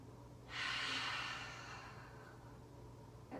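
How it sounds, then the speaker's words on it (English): One deep inhale taken through the nose during a yoga breather, a close, airy rush that swells and slowly fades, followed by a brief second sniff at the end. "Take a nice big breath."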